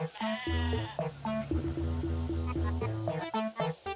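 Sheep in the farming video game Discounty bleat in a string of loud, drawn-out wavering cries, several overlapping calls close by with short gaps.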